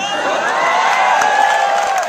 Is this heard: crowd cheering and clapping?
yes